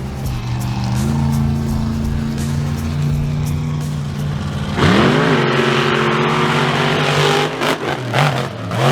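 Monster trucks at a show, one named Toxic, with engines idling loudly, then surging into a roaring rev at the start of a race and holding a heavy snarl.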